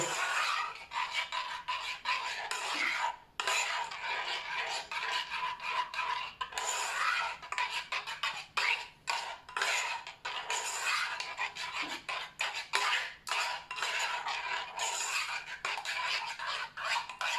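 A spoon scrapes and rubs steadily against a container while stirring a smooth homemade flour-based toilet cleaning gel, producing continuous close rasping strokes with brief pauses.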